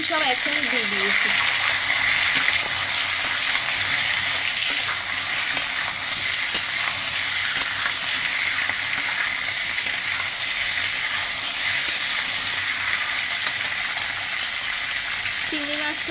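Taro and eggs fry together with browned onions in a pan, giving a loud, steady, close sizzle that continues unbroken throughout, with faint stirring underneath.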